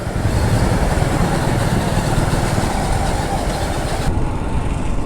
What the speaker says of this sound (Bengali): এখন এইখানে বাইকটা পার্ক করে সামনের দিকে যেতে হবে।